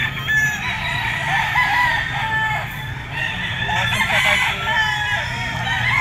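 A yellow-legged possum sweater gamefowl rooster crows in a backyard breeding yard, its strained calls rising and falling over several seconds, with clucking fowl and other birds nearby.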